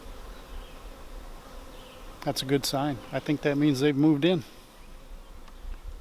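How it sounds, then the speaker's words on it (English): Honey bees buzz steadily around a swarm trap near a tent, some carrying in pollen; the dense, continuous hum runs throughout while a person speaks in the middle. "I noticed that some of the bees were bringing in pollen"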